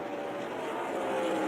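A steady, dense engine roar from NASCAR K&N Pro East race cars at racing speed, a continuous blended drone from the pack heard at a distance with no clear single pass-by.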